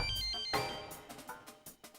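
A phone ringtone for an incoming call chimes in a short repeating melodic pattern, fairly close and clear, with brief gaps between the tones.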